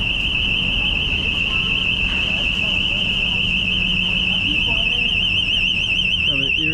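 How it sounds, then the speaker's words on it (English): A car alarm blares steadily and loudly throughout, a constant piercing electronic tone on a busy city street in Hong Kong's Wing Lok Street, with street noise underneath. "Somebody's car alarm is going off."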